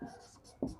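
Quick writing strokes on a board during a vectors lesson, two short, close scratches in under a second against a quiet background.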